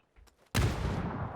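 A grenade blast in the PUBG battle royale game lands as a sudden heavy boom that sustains a dense rumbling roar, following a few faint soft knocks.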